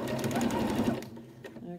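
A sewing machine stitches a fabric face mask, its needle running in a fast, even chatter that slows and thins toward the end, with a voice talking nearby.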